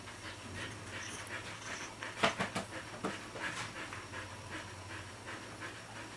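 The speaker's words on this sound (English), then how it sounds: "he is a reserve puppy from Sabre and Max." A puppy almost five weeks old pants in quick, soft breaths at close range, with a few sharper breathy bursts in the middle over a low steady hum.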